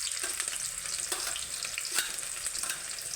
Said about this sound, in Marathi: तर इथं तेल तापलेलं आहे. तर आपण यात कांदा घालून घेणार आहे.